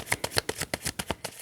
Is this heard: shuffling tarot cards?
yes